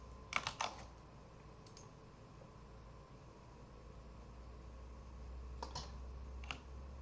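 Keys tapped on a QWERTY computer keyboard during a Unity demo, a quick cluster of clicks at the start, a pair mid-way and a few more near the end, faint over a steady background hiss.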